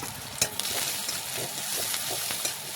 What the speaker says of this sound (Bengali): এদিকে দেখে নেব পেঁয়াজটা ভাজা হয়েছে কি না।